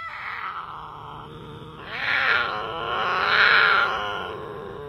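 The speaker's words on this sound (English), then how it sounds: "Females are also well known for the strange noises they make when they're in heat." A female cougar in heat gives a strange, drawn-out wailing call, rising in two long moaning swells, loud and close with no talk.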